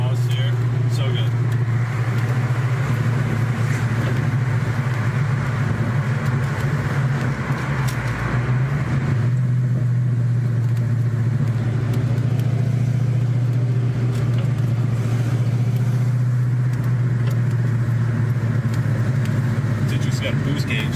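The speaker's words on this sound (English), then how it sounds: "There's no better sound than this exhaust here." A car engine rumbles loudly and steadily, its exhaust droning with a brief dip midway, while people talk over it.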